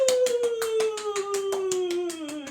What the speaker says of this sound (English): Let's give you a spooky round of applause.